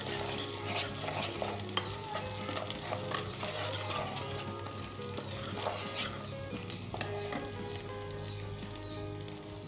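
Spices stirred into a sizzling base for beef meatball kofta shorba, a continuous dense frying hiss with constant scraping and clinking of the spoon against the pan, close and steady, no voices.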